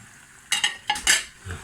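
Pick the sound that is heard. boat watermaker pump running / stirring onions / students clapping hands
stirring onions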